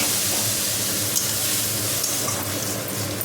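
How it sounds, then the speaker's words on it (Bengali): Water added a little at a time to a frying pan while the food is stirred, giving a steady close sizzle with a faint scraping stir and no pauses. "অল্প অল্প জল দেবো আর নাড়তে থাকবো।"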